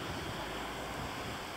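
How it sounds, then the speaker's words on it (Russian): Sea surf washes in a steady, soft roar along a rocky shoreline at Simeiz, faint and continuous with light wind, no voices. "Вот оно, море наше."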